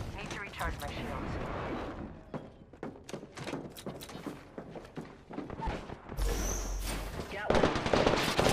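Gunfire in the shooter game Apex Legends: rapid bursts of automatic weapon shots and impacts in dense, repeated volleys, with game voice callouts mixed in and a loud burst near the end.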